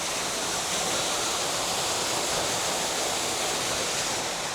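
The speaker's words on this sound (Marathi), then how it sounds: "हे बोर चालू आहे." Water gushes out of a running borewell pump on a farm, a constant loud broadband rushing roar with no breaks, close by and filling the whole stretch.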